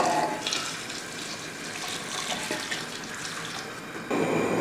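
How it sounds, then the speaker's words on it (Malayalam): Boiled water pours steadily into a pot of rice being cooked for chicken rice, a continuous splashing stream, with a brief pause before it resumes louder and fuller. "ഈ തിളപ്പിച്ച് വെച്ചിരിക്കുന്ന വെള്ളം അങ്ങോട്ട് ഒഴിച്ചു കൊടുക്കാം."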